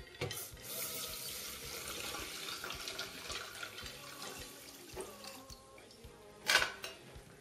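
Water streams steadily into a rice cooker holding millet, with a few clinks of dishes and a sharper clatter near the end.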